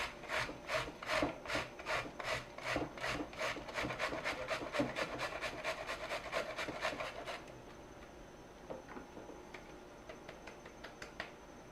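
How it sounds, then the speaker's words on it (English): Cauliflower is grated on a hand grater, with quick rhythmic rasping strokes, close and even, that slow and turn into faint scattered scrapes toward the end. "we're going to take the cauliflower and a grater"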